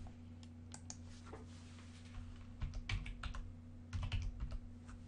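Computer keyboard typing a street name, a run of quick key clicks with a busier burst near the end, close and clear over a steady low electrical hum, no voices.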